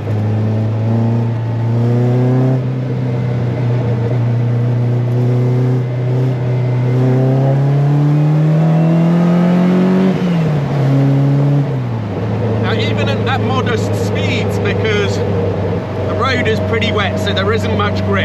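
A Caterham 21 sports car with a 180-horsepower 1.8 engine and lightweight flywheel, loud and close from inside, droning steadily in gear, rising in pitch, then dropping sharply as it changes gear and climbs again, with someone talking over it.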